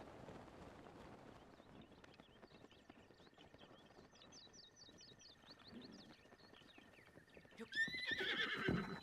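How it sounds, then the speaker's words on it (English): Horse in Zelda Breath of the Wild on the Great Plateau: soft hoof clip-clops and chirping birds lead into a loud, close neigh near the end. "What a lovely horse."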